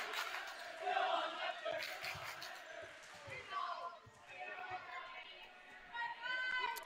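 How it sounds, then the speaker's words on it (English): A student crowd cheers at a varsity volleyball game in a gym, with mixed shouting voices rising and falling in uneven bursts and a busy chatter of spectators under the cheering. "the dumbest cheer in the history of sports"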